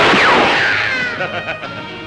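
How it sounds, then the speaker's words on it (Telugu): A single loud gunshot from a Telugu feature film rings out at the start and decays into a long ringing echo over about two seconds. "ఇప్పుడే నా తుపాకీకి పని తగిలింది"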